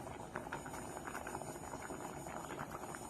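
Buttermilk curry with ash gourd bubbling in a pot, a low, steady simmering burble with soft popping that carries on evenly throughout, faint and close, with no talking over it.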